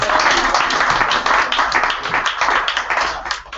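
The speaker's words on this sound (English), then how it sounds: "Let's have one more round of applause for Ryan." An audience at a live open mic poetry reading gives a poet a round of applause, a steady, full wash of many hands clapping at close range throughout.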